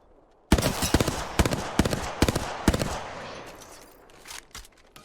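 Rapid bursts of enemy gunfire in Apex Legends ring out close and loud, several volleys in quick succession fading into scattered shots.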